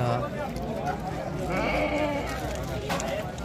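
Sheep bleating at a livestock market in Kolkhozobod before Eid al-Adha, a few calls rising out of a busy crowd murmur with people talking throughout.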